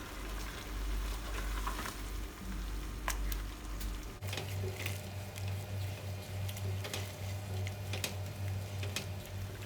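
Fried kwetiau noodles sizzling in a pan while being stirred with sweet soy sauce, a steady quiet crackle with scraping and squishing stirs and occasional ticks, no talking.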